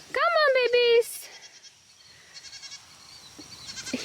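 Baby goats bleating on a farm: one clear, wavering bleat up close at the start, followed by quieter rustling and faint bleats further off, with some talking.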